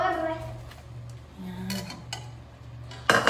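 A fork stirring and tossing pancit canton noodles in a pan with soy sauce and oil, giving soft clinks and scrapes of metal on the pan, ending in a louder clatter.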